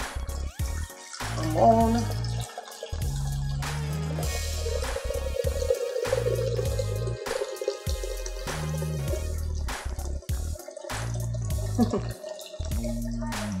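Water pours into a Xiaomi Mi Smart Kettle, splashing and dripping in a steady stream with a rising fill tone over several seconds, close by, while a person talks over it.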